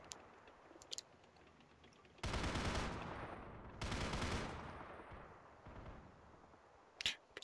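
Ambient gunfire from the war game Men of War: Assault Squad 2, with two long, loud bursts of rapid firing, fainter distant shots and scattered clicks in between.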